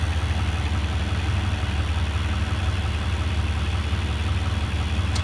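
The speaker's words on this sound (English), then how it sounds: "Here's your air suspension." A 2000 Ford F350 diesel 4x4 idles with a steady, close low drone while its air suspension pumps up, the engine hum dominating throughout with no break in sound.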